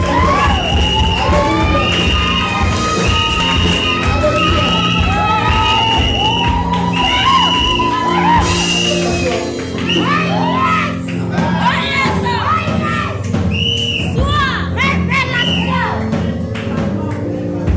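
A church congregation loudly shouts, whoops and cheers in acclaim of the Lord, a dense crowd roar that holds steady for the whole stretch, with voices ringing out throughout.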